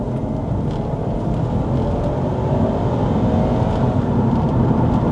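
A 2012 Subaru Impreza WRX STI A-Line with an automatic gearbox accelerates hard, its engine producing a steady, loud, close-up drone with road and wind roar heard from inside the cabin.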